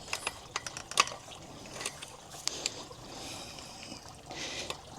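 A Brompton bicycle's back wheel being tightened: quick, light metallic ratcheting clicks come in short irregular bursts, close up and fairly quiet over a soft background hiss.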